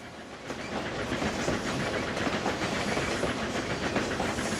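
A steam locomotive running on a Denver route in the TrainZ sim video game rumbles steadily with rhythmic clickety-clack and a hissing wash over it, moderately loud and continuous.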